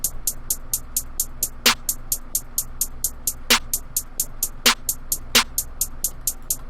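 Hi-hat drum sample programmed in FL Studio, ticking in a fast steady pattern of crisp, bright hits with a few louder accented strikes, played alone without talk.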